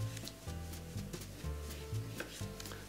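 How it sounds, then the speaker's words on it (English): A knife cuts thin slices from a Meyer lemon on a board, making soft, repeated cutting taps about every half second, each with a brief wet scrape. There is steady low background hum and no talking. "I'm going to just take some nice thin slices of this Meyer lemon."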